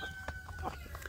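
Indonesian free-range village chickens in a laying flock, clucking in short, soft bursts that sound fairly close, over low background hum.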